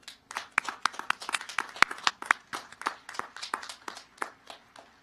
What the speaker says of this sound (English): I think you all deserve an extra round of applause.